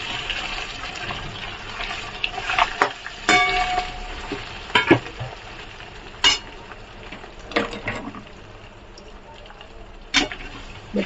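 Mashed potatoes stirred into a hot pan of frying sabudana khichdi, with a steady sizzle broken by repeated clattering scrapes of a spoon against the pan, close and fairly loud.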